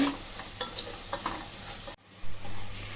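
Ground masala for Chettinad chicken gravy sautés in a pan, a steady close sizzle broken by a few scraping stirs of the spoon, with a brief dip partway through and no talking.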